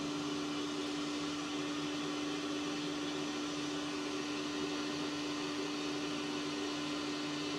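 A portable particle analyzer's vacuum pump and sample hopper run together, giving a steady, loud mechanical whir with a constant low hum and broadband hiss that never changes across the whole stretch, with no voices.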